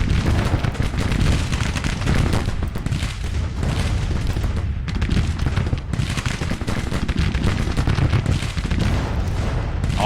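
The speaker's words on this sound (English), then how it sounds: "So we can get some good counter battery fire going here." Counter-battery artillery fire in Grand Tactician: The Civil War, heard as a dense, continuous roar of cannon booms and musketry that stays loud and unbroken throughout.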